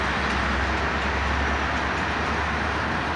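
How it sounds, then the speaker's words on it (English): A CP freight train hauled by Geep locomotives rumbles past over Highway 15 at Decarie, a loud, continuous, close roar of engines and rolling cars that holds steady throughout. "You know when you fucking hear that locomotive rumble,"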